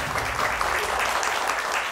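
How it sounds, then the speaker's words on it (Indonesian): Dense, steady applause from a studio audience of UI and Budi Luhur university students at an Indonesian televised debate show, filling the room evenly throughout. "Boleh tepuk tangannya yang lebih semangat lagi dari UI dan juga Budi Luhur."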